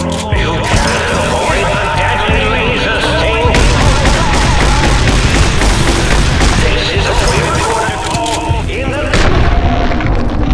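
Dense, loud gunfire and explosive booms in the video game Fallout: New Vegas, Old World Blues add-on, a continuous barrage of shots over ten seconds, with a voice reacting beneath it.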